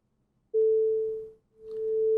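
A pure sine wave oscillator tone, steady and clear, starting after a brief silence, dipping away for a moment, then swelling back in alone.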